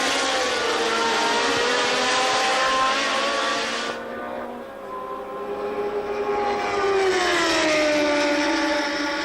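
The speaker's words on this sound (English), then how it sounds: "Out of the Lesmo bends, underneath the bridge, down to the third chicane, and watch Patrick Tambay nip through on the" Formula 1 cars at Monza during the 1981 Italian Grand Prix, engines screaming at high revs as they pass close by, one fading before another roars through loud and sustained, with no talk over them.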